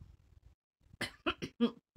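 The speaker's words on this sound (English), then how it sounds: "Excuse me, I have a little cough." A few soft rustles, then four short coughs in quick succession, fairly close and clear, with no talking.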